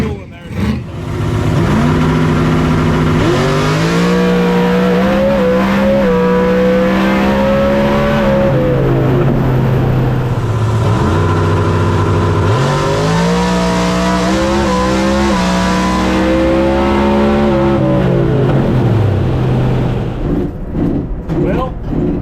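A drag race car launches hard down the track and lifts into a wheelie in Ultra Street qualifying, its engine roaring loud and continuous with rising, shifting pitch sweeps for the full run.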